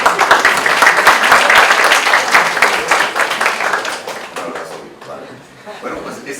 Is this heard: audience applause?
yes